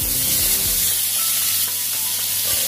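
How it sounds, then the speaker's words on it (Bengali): Chicken pieces shallow-fry in a pan for a stew, giving a loud, steady, close sizzle with a dense hiss and a faint low hum underneath, no voices. "মাংসটা একটু ভেজে নেবে।"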